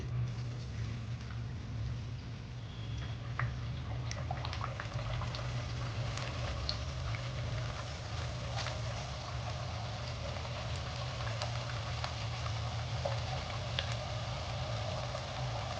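Puris made from rice flour dough fry in very hot oil, giving a steady, close bubbling and crackling with fine ticking pops all the way through.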